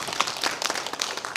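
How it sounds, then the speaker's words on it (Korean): Audience applause at a Korean academic seminar, a short burst of scattered clapping from a seated crowd, moderately near and steady throughout. "격려의 박수 한번 쳐주시죠"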